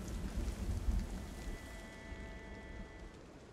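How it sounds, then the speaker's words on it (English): Rain falling in a zombie survival video game set in Louisville, a steady soft hiss with a low rumble of distant thunder fading out, faint and without talk. "considering it's raining and we're probably soaked"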